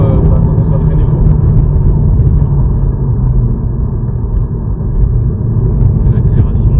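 A Renault Mégane 3 RS Trophy rumbles loudly under acceleration from inside the cabin, a deep, steady engine drone that swells slightly and dips near the middle, with a voice speaking over it.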